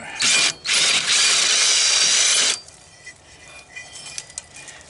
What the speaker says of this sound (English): got a 5/8 socket here. Bolt's not coming out.